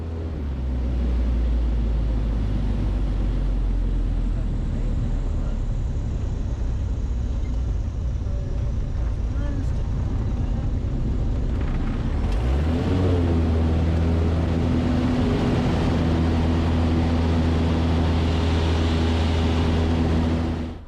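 An aerobatic airplane's engine through a spin entry and recovery, a loud continuous droning rumble that shifts pitch and surges partway through as power changes, heard close and alone throughout.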